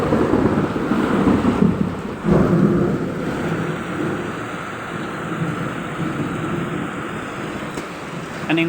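A heavy rainstorm hisses steadily while thunder booms and rolls, loudest early on, then fades into the continuous roar of rain.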